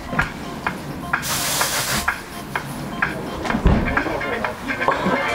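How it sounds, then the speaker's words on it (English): Brake cleaner sprayed onto ball differential parts in short hissing bursts, one longer blast standing out, mixed with clinks and handling noises. "So you just clean them with brake cleaner as good as you can."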